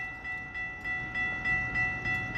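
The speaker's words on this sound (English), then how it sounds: "I heard the train coming." A Florida East Coast Railway train approaches a crossing with steady tonal lines over a low rumble, a faint horn-like drone running the length of the sound.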